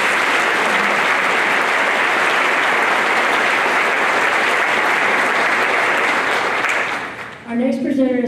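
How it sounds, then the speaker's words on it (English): Loud, steady applause from an audience at a college honors ceremony fills the room for about seven seconds, then fades as a voice begins speaking over the last claps. "Would you please clap for our HBR division honor?"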